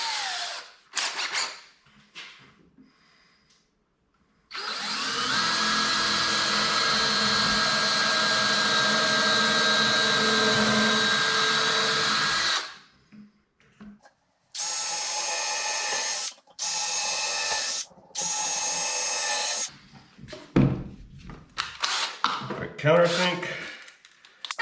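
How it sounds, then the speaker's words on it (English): A power drill whirs in a long sustained run, followed by three short bursts of countersinking, with brief talk and handling clatter in between. "Change from my countersink back to my drill bit."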